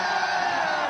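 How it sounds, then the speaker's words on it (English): A large esports crowd at an Apex Legends championship final yells and roars, a loud, steady, dense wall of voices. "Wait, the crowd is yelling."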